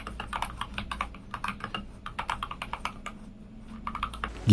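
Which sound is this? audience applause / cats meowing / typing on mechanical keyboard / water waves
typing on mechanical keyboard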